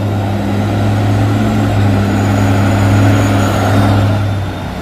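A heavy turbo diesel ten-wheel truck hauling soil rumbles steadily at close range, a deep low drone with a faint whine above it, no voices.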